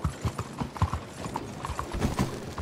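In the Red Dead Redemption 2 video game, horse hooves clip-clop on the ground in an uneven walking rhythm, close and clear, with faint chatter underneath.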